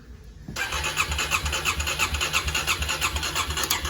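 A 2009 Kawasaki KLX250S motorcycle that had been sitting, with a freshly cleaned carb, cranks briefly and catches, then settles into a loud, close, steady idle with a throbbing pulse.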